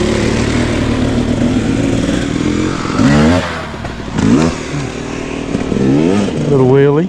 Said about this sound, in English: Got a bike coming by.